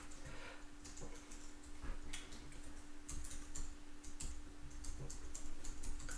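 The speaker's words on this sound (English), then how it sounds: "Now you're going to see me go through all my typing here" Fast typing on a computer keyboard while filling in a new account sign-up, irregular soft key clicks in quick bursts over a faint steady hum.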